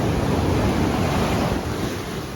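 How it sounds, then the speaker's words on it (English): Ocean waves surge in along a beach in a steady broadband wash, loud and near, with wind rumbling across the microphone and no speech. "Man, the waves are coming in."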